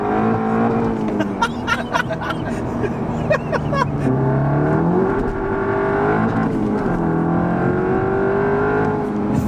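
Crash-damaged Audi B7 RS4 heard from inside as it accelerates hard in third with wheel spin, engine note rising and wavering in pitch, loud and close, with people laughing and talking over it early on.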